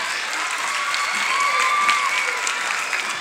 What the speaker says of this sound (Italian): Se volete fare un altro applauso fate